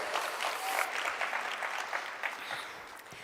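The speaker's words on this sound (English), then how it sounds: "Let's give her another warm applause." An audience at a youth development event claps in sustained, dense applause, steady and fairly loud throughout with no clear speech.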